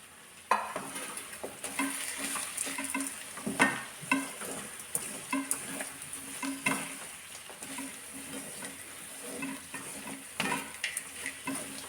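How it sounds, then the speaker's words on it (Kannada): Whole spices frying in a pan for a curry leaf chicken gravy, a steady soft sizzle broken by frequent scraping stirs and light clinks of a spoon against the pan, with no talk. "ಇದನ್ನು ಒಂದು ಎರಡು ನಿಮಿಷ ಫ್ರೈ ಮಾಡಿ"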